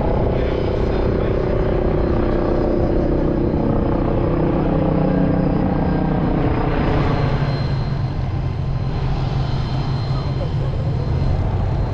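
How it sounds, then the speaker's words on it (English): A helicopter drones steadily overhead near Biggin Hill Airport, England, its low rotor thrum swelling and shifting as it passes, with faint voices in the background. "there's a helicopter coming over"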